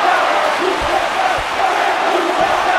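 Dense, loud crowd noise at an independent wrestling event, with rhythmic swells of an audience chanting together as a steady roar holds underneath throughout.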